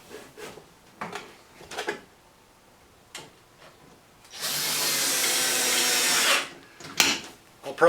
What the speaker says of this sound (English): Just using some smaller wood screws to begin with.